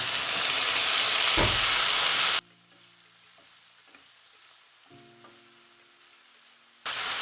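Chopped brinjal being fried in a pan for rava vangibath, starting with a loud, dense sizzle and a stirring scrape, then cutting to a quiet stretch with soft clinks before the loud sizzle returns at the end.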